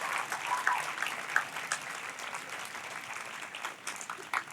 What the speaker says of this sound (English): please give a huge round of applause to our families and friends